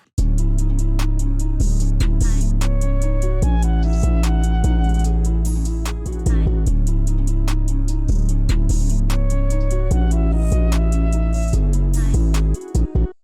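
Heavily boosted, distorted 808 bass booms under a full beat with crisp hi-hats and snares, loud and continuous throughout.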